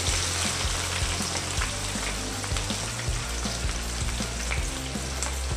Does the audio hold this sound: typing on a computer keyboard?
no